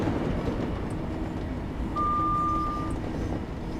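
A Class 395 train passes in Train Sim World 3, a steady, close rumble of rolling stock with a brief tonal whine partway through and no talk.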